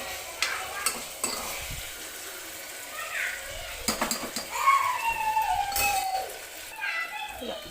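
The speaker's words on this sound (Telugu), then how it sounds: "ఉల్లిపాయ టమాటా వేగిపోయిన తర్వాత ఇలా ముక్కలుగా చేసి ఇందులో వేసుకోవడం" Cassava pieces frying in a pan with onion and tomato for a curry, sizzling under stirring clatter and scraping, with a brief watery stretch partway through and no talking.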